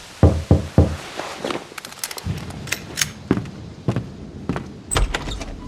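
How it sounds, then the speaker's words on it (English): Knocking at a door in the Max Payne 2 video game, a series of sharp, close raps spread unevenly across the span with quieter thuds between. "I had woken up to a knock at my door."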